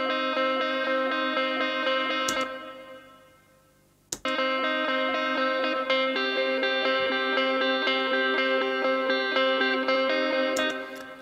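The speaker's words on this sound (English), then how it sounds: "this is a massive reverb. Eternity, it's called within Pro-R Fab Filter, 20 second reverb tail" Percussion run through FabFilter Pro-R's Eternity reverb with a 20-second tail, mixed low at about 15%, rings as a dense, sustained wash of layered tones. It fades almost to silence briefly, then a sharp hit brings the full shimmering sound back.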